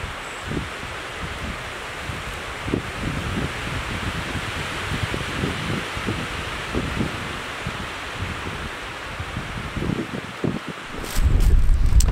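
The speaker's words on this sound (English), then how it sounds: "The wind is very strong." Strong wind buffets the open shore of a lake in the woods, a steady broadband roar with gusty low rumbles and microphone buffeting, rising louder in the final second, with no voices.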